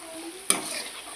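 Ginger paste and turmeric being stirred in a frying pan for brinjal curry, a soft continuous sizzle with one sharp scrape or clack of the spoon midway, then a brighter hiss.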